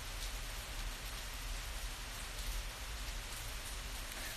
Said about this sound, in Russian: куда же пойти-то в такой дождь? Вот куда же? Боже, боже, боже, как он льет, как он льет.